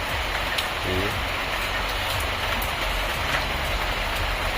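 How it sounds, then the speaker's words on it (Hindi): Steady rain falls at a hillside hotel near Kainchi Dham, a dense, continuous hiss close by, with a brief voice speaking over it. "बारिश हो रही है।"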